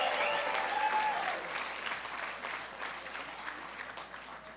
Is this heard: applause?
yes